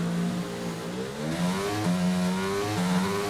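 Race car engine in F1 22 revving at the start, rising in stepped pitch as gears climb, loud and continuous with no talk over it.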